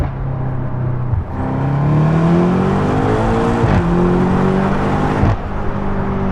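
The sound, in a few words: BMW M8 Competition Convertible downshift exhaust pop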